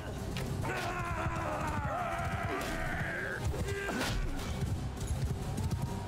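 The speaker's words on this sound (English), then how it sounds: "Get on the horse, get on the horse." Horse hooves from the video game Mount & Blade II Bannerlord thud and clop under a voice, mixed with whinny-like tones and scattered clatter.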